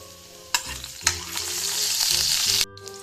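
Garlic frying in hot oil in a pan, a loud close sizzle that swells after two sharp clanks of a utensil, then cuts off abruptly near the end.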